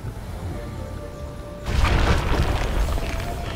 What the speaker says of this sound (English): I quite struggle with this grenade thing because you kind of throw it miles